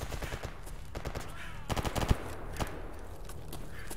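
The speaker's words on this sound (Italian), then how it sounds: "Sento spari in lontananza, molto in lontananza in effetti" Gunfire echoes in the STALKER: Escape from Pripyat video game, sharp bursts and scattered shots of automatic fire, with some nearer cracks around the middle.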